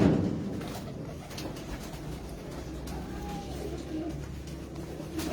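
Pigeons cooing in a steady low murmur close by, with continuous background rumble and no clear talking.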